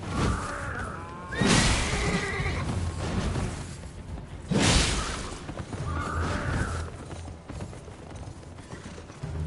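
Horses neighing amid Elden Ring combat, two loud whinnies a few seconds apart over clattering hooves and mechanical battle noise, with a third fainter call later.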